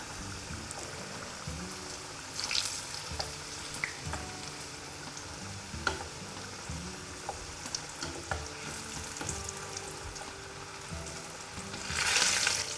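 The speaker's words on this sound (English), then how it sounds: "We're going to add the oil to the frying pan now so we can fry the potatoes." Potatoes frying in oil in a pan, a soft steady sizzle with occasional clinks and scrapes of stirring, and a louder burst of hissing near the end.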